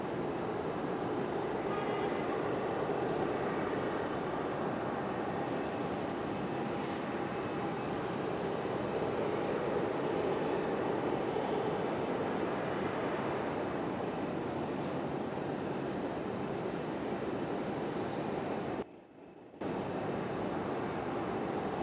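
A Boeing 737 jet airliner moves at Raleigh-Durham International Airport with a constant, faint jet whine and roar heard from a distance, briefly cut out near the end.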